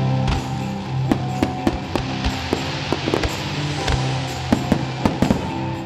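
Fireworks closing the B-Fest music festival held among vineyards near Sevastopol, with sharp irregular bangs and crackles of varying loudness popping over a steady background rumble.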